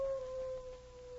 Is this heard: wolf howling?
yes